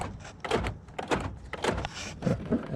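Someone handles the door of a crashed Honda CR-V during roadside repairs, producing a series of close thumps, clicks and latch rattles in irregular bursts, with no speech.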